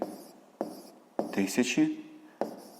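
A pen scratches across paper while working a sixth-grade math exercise, several short separate strokes spaced a fraction of a second apart, with a brief voice in the middle.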